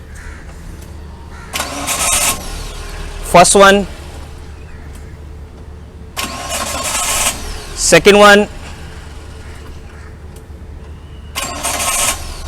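A car engine cranks with a portable multi-function jump starter in two short bursts several seconds apart, with quieter clicking bursts in between and someone talking throughout.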